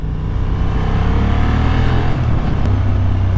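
A Honda Hornet 750 motorcycle pulls hard in third gear, its engine note loud and close with a sustained rising drone and wind rush, a brief dip in the middle.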